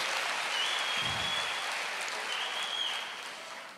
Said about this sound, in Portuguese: Aplauda ao Senhor, glorifique a Deus.